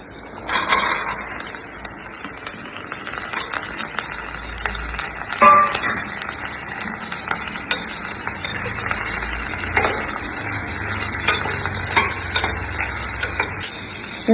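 Vegetables go into a pan of white kurma and fry with a steady, close hiss and sizzle, while a spoon stirs and clinks against the pan throughout.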